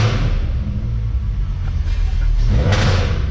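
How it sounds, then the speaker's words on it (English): A car engine idles and revs with its muffler removed, the open pipe giving a loud, raw, continuous rumble that swells louder near the end. "Right now we have the muffler off again. Listen to how angry this car is."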